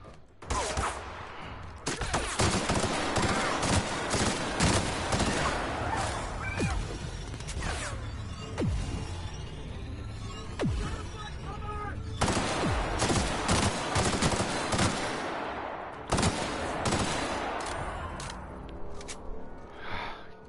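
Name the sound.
gunfire in the video game The Outer Worlds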